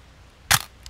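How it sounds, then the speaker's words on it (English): A Chinon CS film camera body fires its shutter once, a single sharp close mechanical snap with a faint second click just after, alone in a quiet room. "to test the shutter and show you"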